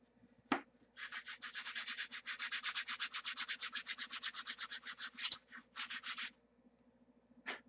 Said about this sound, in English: Remember what I've told you about sanding? You can hear it change tone.